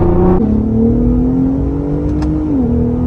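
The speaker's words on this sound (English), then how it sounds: "when I'm driving it and I floor it and I'm listening to the exhaust tone" A Ford Raptor with an EcoBoost engine pulls hard under throttle, its exhaust note climbing steadily in pitch, then a brief shift and a drop before rising again, loud and close with no talking.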